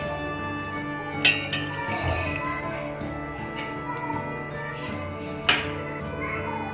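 A cup of oil and a cup of milk are poured for homemade cake batter, a soft steady liquid pour with a couple of sharp clinks against the container.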